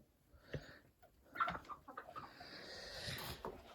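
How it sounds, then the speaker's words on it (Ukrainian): A rooster clucks and chatters in short bursts amid outdoor farmyard noise on a frosty, sunny day, fairly faint and close by. "Оце півник у нас стадний буде."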